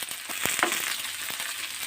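Onions frying in a pan with a steady crackling sizzle, stirred by a spatula that adds occasional soft scraping clicks, close and continuous with no talk.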